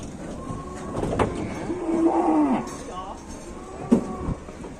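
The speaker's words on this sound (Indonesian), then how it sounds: "Sapi besar banget di pasar Jelok ini." A very large cow at the Jelok cattle market lets out a long, loud moo near the middle, with a second shorter lowing call toward the end, amid crowd noise and people talking.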